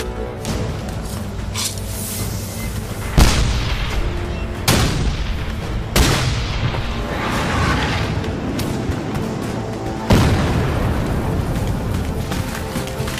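A 12-pound cannon fires solid iron cannonballs at a Gettysburg battle reenactment, several loud booming blasts at intervals amid ongoing rumbling gunfire and battle noise.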